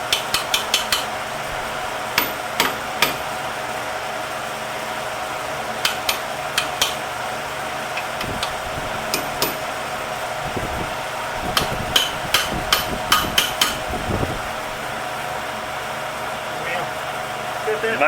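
Sharp metallic hammer strikes during a rear axle swap come in irregular clusters, some rapid and some spaced apart, with a low engine-like hum underneath.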